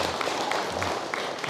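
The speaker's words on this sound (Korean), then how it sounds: "전부 다 박수로 한번 맞이해볼까요" A seated audience at a Buddhist mind-study talk bursts into brief, steady applause welcoming a visiting Dharma teacher; the dense clapping fills the whole short moment at moderate volume.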